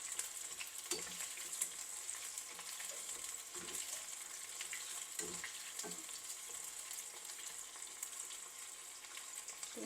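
Chicken frying in oil gives a steady, moderate sizzle throughout, broken by occasional soft stirring clacks and pops, with no talking.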